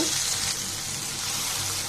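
Chicken curry sizzles in a pan on the stove just after ground spice paste and a little water go in, a steady close hiss and bubbling with no talking.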